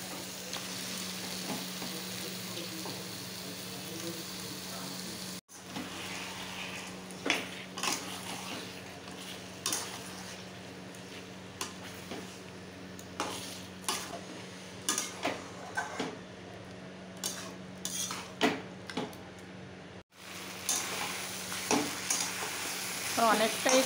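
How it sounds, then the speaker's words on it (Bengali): Mutton pieces fry and are stirred in a spiced masala, a steady close sizzle broken by repeated scraping stir strokes and brief pauses, with no talking. "মশলা হয়ে গেছে, এবার দিয়ে দেবো মাংসটা। তো 1-1 করে মাংস দিয়ে দেবো।"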